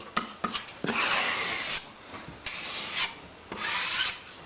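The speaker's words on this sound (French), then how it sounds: "J'enlève mon surplus d'enduit." A metal drywall spatula scrapes excess joint compound off paper tape in an inside plasterboard corner, several rasping strokes of varying length, close and fairly loud with no talking.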